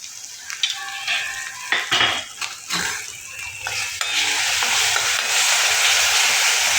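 Plain curd stirred into a hot pan for paneer butter masala, a loud steady sizzle with scraping stirring and clinks of a spoon against the pan, close and with no talk.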